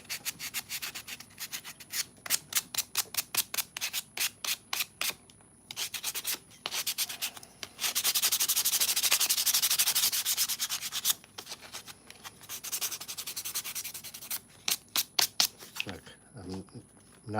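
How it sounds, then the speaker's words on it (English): Hand sanding of a clone trooper belt prop: quick rhythmic rasping strokes, a long steady stretch of continuous rubbing in the middle, then more rapid back-and-forth strokes, loud and close. "Wear a mask when you're sanding this stuff so you don't breathe it"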